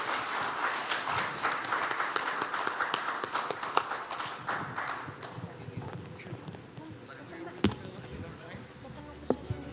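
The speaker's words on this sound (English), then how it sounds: "I hope all of you will join me in giving a round of applause to these speakers" Audience applause for speakers at a live panel discussion, a dense patter of claps that is loudest over the first five seconds, then thins to scattered claps and faint room murmur.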